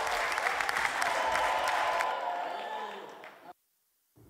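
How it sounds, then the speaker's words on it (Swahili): A studio audience at a dating show breaks into a burst of applause, loud at first and then thinning and fading out to silence after a few seconds, with some voices mixed in. "Wapi makofi"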